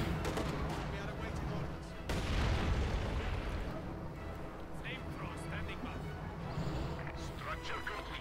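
Soviet artillery and German heavy mortar fire in Company of Heroes 2, dense rumbling booms and blasts layered under continuous commentary, with a sharp burst around two seconds in.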